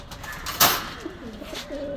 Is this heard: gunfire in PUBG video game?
no